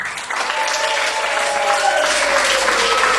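Dense audience applause at a gospel singer's performance, sustained and fairly loud for the whole stretch, with a faint held tone underneath.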